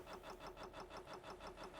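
A vehicle engine in the Stormworks video game spins up with a faint, even pulsing rhythm of roughly five beats per second, low in level and steady throughout.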